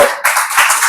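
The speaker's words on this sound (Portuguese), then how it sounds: "Você pode dar um aplauso ao Senhor?" Worshippers in a church service clap in praise to the Lord, a short close burst of hand claps with sharp onsets.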